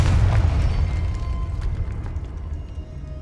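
A fiery blast spell cast in the Hogwarts Legacy video game erupts in a deep, rumbling boom that starts loud and slowly fades over a few seconds, with no talk over it.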